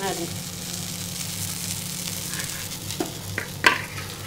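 Coriander, mint and a few curry leaves sauté lightly in a hot pan with a steady soft sizzle, broken near the end by a couple of sharp stirring scrapes.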